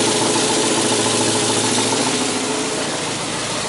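A warm Austin 1300 Countryman engine idles steadily and close by, a continuous even mid-pitched running hum with no voices over it.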